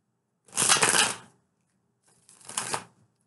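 Tarot cards shuffled by hand in two short riffling bursts, the first longer and louder, the second softer after a pause of about a second, heard close up with no speech.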